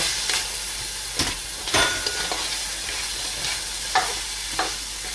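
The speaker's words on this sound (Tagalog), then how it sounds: "So, igisa lang nating maigi ito hanggang sa medyo malambot na yung carrots." Pork, potato and mixed vegetables for lumpia filling sauté in a pan with a loud, steady sizzle, while a utensil scrapes and knocks against the pan several times as it is stirred.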